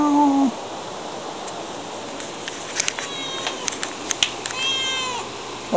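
A cat meows several times close by, a long cry at the start and then a run of shorter, higher meows, with a person briefly talking at the opening.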